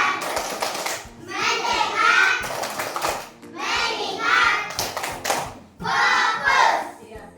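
Primary school children in an Indonesian classroom perform the tepuk fokus clapping game, sharp hand claps landing in a steady repeating rhythm between bursts of loud group chanting, with a teacher's voice leading.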